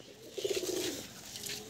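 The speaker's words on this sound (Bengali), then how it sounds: "এই যে দেখুন ভালো পায়রা" A male pigeon coos close by, a short throaty burst of rolling pulses lasting about half a second over light background noise.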